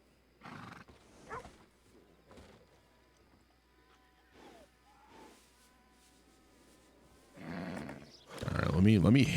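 A horse in a Western role-play video game (Red Dead) gives several short snorts and whinnies, scattered across the clip and ending in a loud, rising neigh, with insect buzzing and someone talking.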